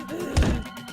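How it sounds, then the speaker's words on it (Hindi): A single heavy thud of a door being kicked in a horror story, a short muffled impact heard alone against a quiet background. "दरवाजे पर लात मार रही थी।"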